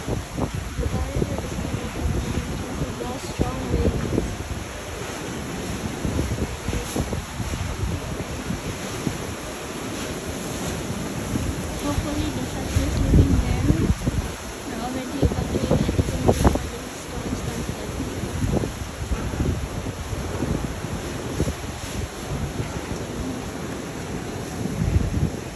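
Typhoon Odette wind roaring over Cebu, a loud, steady, rushing gale with gusting swells and buffeting against the microphone, eerie and unbroken for the whole stretch.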